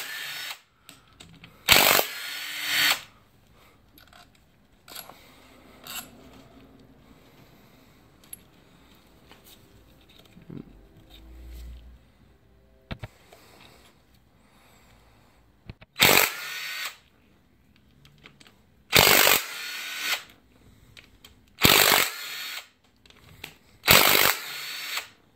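A ratchet with a 12-point socket works the connecting rod bolts on a Kia Soul 1.6L GDI engine during teardown, heard as several loud, short bursts of clicking separated by quieter stretches of handling noise.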